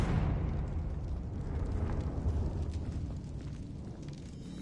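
Confringo spell explosion in Hogwarts Legacy on PS5: a heavy, booming blast opening at full strength, then a long rumbling fire roar that slowly fades, no voices.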